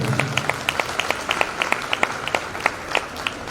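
An indoor audience at a community welfare society gathering claps for a teacher's speech, a steady run of crisp, moderately loud hand claps that holds evenly for several seconds.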